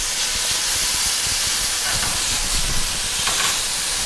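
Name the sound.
sautéing wild mushrooms in a frying pan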